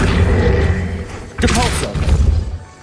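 A spell cast in Hogwarts Legacy gives a booming magical whoosh with a thud, a loud, close swell followed by a rumbling tail over low background hum.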